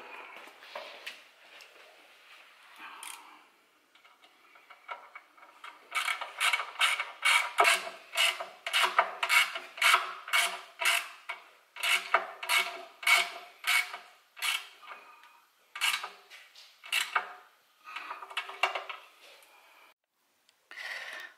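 Bolts being tightened on the cowling of a Lambretta BGM V4 Sport clubman scooter, giving a run of short, close creaking ratchet strokes in quick rhythmic bursts with brief pauses, and no talking.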